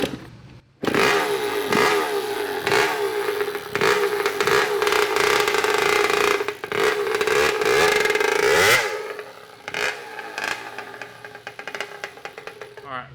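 Kawasaki KX80 dirt bike engine starts up loud and close, running with a raspy two-stroke buzz and revving for several seconds before dropping off, followed by clattering and knocking sounds.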